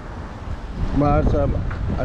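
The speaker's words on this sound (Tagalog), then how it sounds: "Medyo mahangin na." Wind rumbles steadily against the microphone at a beach while fishing, with a brief voice speaking partway through.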